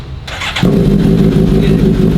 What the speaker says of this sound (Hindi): इसमें एग्जॉस्ट मैंने लगवाया था, ओरिजिनल स्टॉक एग्जॉस्ट भी अवेलेबल है, एंड इसकी आवाज़ यार इसकी आवाज़ इतनी प्यारी है ना